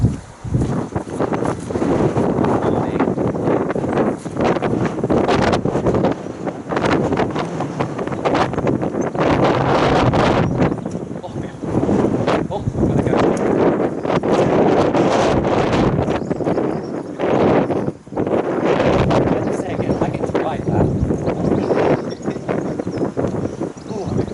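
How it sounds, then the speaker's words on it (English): Strong wind buffets the microphone almost without pause, a loud roaring rush with gusty swells and rustling, heard close and continuous. "And now I chose a windy day."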